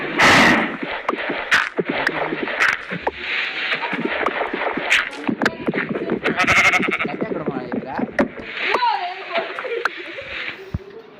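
Repeated goat bleats in Minecraft, overlapping with lively talking voices and scattered clicks, fairly loud and close throughout.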